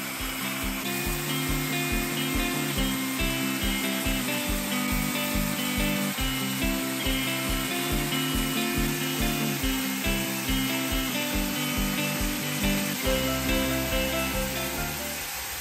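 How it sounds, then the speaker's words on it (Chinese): A sawmill saw slices harvested tree trunks into wooden rounds, giving a loud, steady machine drone with a repeating rhythmic pattern through the whole stretch, near and continuous with no talk. "第一次在现场近距离观看锯木头的过程，十分新奇，也非常舒压。"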